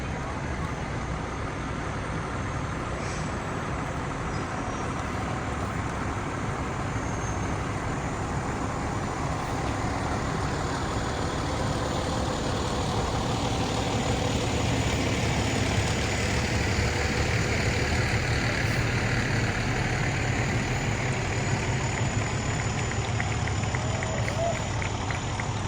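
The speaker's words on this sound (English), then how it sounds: "Their 2020 E1 Typhoon pumper." A 2020 E1 Typhoon fire pumper truck idles at a fire department parade, a continuous low engine rumble lasting throughout with outdoor crowd noise and indistinct voices mixed in.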